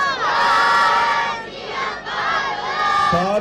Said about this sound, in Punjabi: ਜੈਕਾਰੇ ਲਾਉਂਦੇ ਬੱਚਿਆਂ ਦਾ ਜੋਸ਼ ਵੇਖਿਆ ਹੀ ਬਣਦਾ ਸੀ